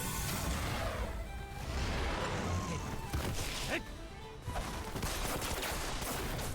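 Gunfire and crashing impacts from a One Piece Odyssey battle, dense bursts and smashes layered over busy game sound, with a few sharp whooshes and no pause.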